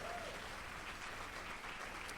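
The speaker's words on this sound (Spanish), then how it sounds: "denle un aplauso fuerte al Señor" Congregation at a church service applauding, a steady dense clapping that fills the room for the whole stretch, loud and continuous with no break.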